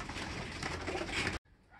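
Racing pigeons coo in a soft, close, continuous murmur of overlapping throaty calls, cutting off abruptly near the end.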